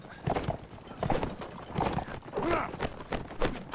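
Hooves of a horse in the video game Mount and Blade Warband, a steady rhythmic clip-clop at moderate distance mixed with game noise and faint voices.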